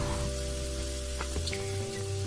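Jengkol sizzles as it goes into hot oil in a wok, a dense, steady crackle and hiss over a low hum, with a few brief pops along the way.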